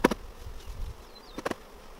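Honey bees are shaken off hive frames into a box, buzzing as a low steady drone broken by a few sharp knocks and thumps from the frames.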